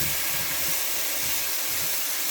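Garlic cloves stirred into softening vegetables in a skillet for a Philly cheesesteak dish, giving a steady, close, even sizzle and hiss with no break and no talking.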